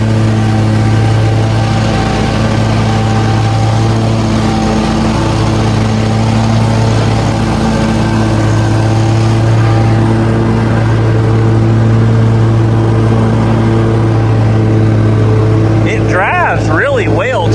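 A Wright ZTS zero-turn mower engine runs loud and close, a steady droning hum that climbs in pitch near the end as the throttle opens, while someone talks over it throughout.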